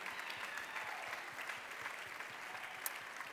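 An audience at the Miss Austria 2018 pageant claps for the contestants, a dense, even wash of applause held at moderate distance throughout.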